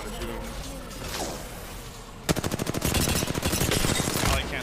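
Gunfire from a battle royale video game: a rapid, loud burst of automatic shots in quick rhythmic succession, breaking out midway after a stretch of quieter whooshing activity.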